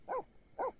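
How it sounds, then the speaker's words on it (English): Two short, bright barks from a puppy in a video game, evenly spaced and fairly close, with quiet between them and no talking. "I just need you to lecture your puppy about barking."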